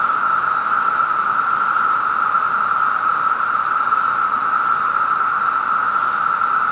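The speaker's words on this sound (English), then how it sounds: "That is the sound of cicadas." Cicadas in the trees during an emergence year, a loud, constant high-pitched drone that fills the air without a break or any change in level.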